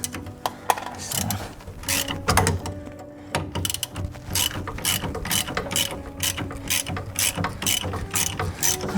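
A ratchet clicks in quick, steady runs while loosening the 13mm brake caliper bolts on a Mini Cooper, close and crisp, with short pauses between bursts.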